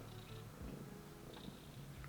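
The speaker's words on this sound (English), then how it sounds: "if you hear purring, it's my cat." A house cat purring softly close by indoors, a steady low rumble that continues unbroken throughout, with no talking over it.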